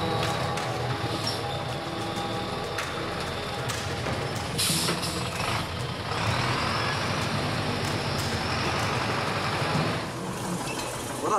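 A heavy truck labors slowly over a stony, rough mountain road in China, its engine rumbling steadily with rattles, clanks and a brief hiss like an air brake, all close and continuous without speech.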